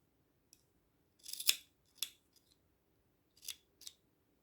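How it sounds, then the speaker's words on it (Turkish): Scissors snip excess yarn from a crochet piece for a baby vest, giving about five quiet, crisp cuts in short irregular clusters against a nearly silent background. "Fazlalığı arkada keseceğim. Hatta şimdi keseyim."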